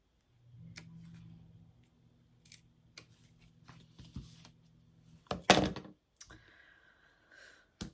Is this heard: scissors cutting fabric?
yes